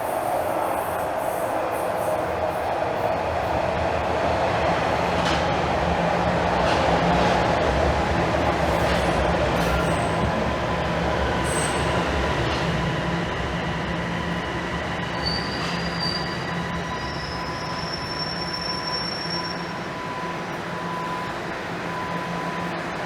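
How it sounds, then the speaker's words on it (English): Toronto subway train on Line 1 pulling into Highway 407 station, a loud, continuous rumble of wheels and motors with high metallic squeals from the rails, heard from the platform with no talking. "I think the train is rolling in."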